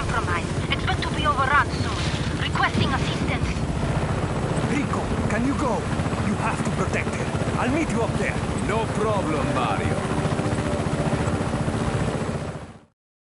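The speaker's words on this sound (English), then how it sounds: "This chopper, fratre!" A helicopter in the video game Just Cause 3 roars with loud, steady rotor thrum and wind noise for about twelve seconds, then cuts off abruptly.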